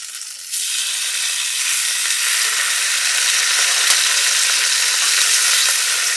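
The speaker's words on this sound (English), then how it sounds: "before I cook the toast in the pan, I'm going to cook some bacon" Rashers of bacon from a local butcher fry in a pan at a campsite, starting with a sudden loud sizzle that settles into a steady, dense crackle with a few faint pops.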